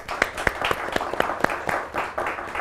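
A studio audience on a business mentoring show claps, loose and fairly sparse, with distinct individual hand claps standing out in an uneven rhythm.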